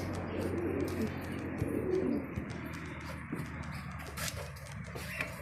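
Pigeons cooing inside a loft on an old rooftop, a soft low murmur of calls running steadily under light outdoor ambience, with a few faint bird chirps toward the end.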